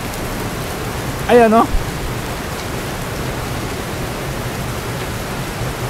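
Heavy rain pouring down under thick dark clouds, a dense steady roar filling the whole stretch, with a man's short exclamation over it.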